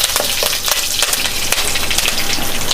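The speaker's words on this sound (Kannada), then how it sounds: "ಕರಿಬೇವಿನ ಸೊಪ್ಪು ಹಾಕಿ ಒಗ್ಗರಣೆಗೆ." Curry leaves drop into hot tempering oil with mustard seeds and urad dal, setting off a loud, close, crackling sizzle with sharp pops scattered through it and no talking.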